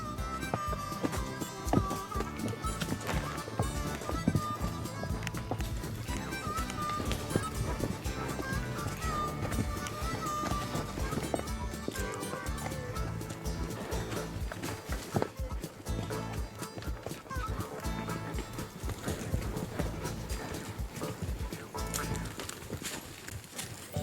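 Saddle horses walk along an Arizona trail, their hooves clip-clopping in a steady, uneven rhythm over a continuous tonal background.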